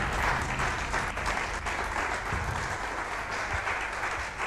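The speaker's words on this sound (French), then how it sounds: "On applaudit bien fort, on l'encourage s'il vous plaît, mesdames et messieurs." An audience at a trophy award ceremony applauds a female lawyer receiving a women's leadership prize. The clapping is dense, continuous and fairly close, with an even roar of many hands throughout.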